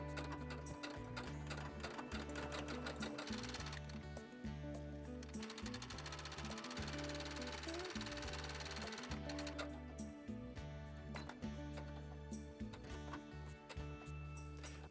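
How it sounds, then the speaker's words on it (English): A sewing machine stitches the two short ends of a fabric strip together into a loop, its rapid, steady mechanical chatter running close and continuous, briefly slowing and restarting partway through. "Sew the two short ends together using a 1/4 inch seam allowance to form a loop."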